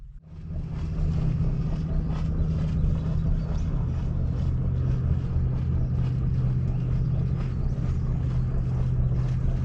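The steady, low drone of a passing boat's engine carries across a calm evening anchorage off an island. It holds constant and moderately loud throughout, with no talk.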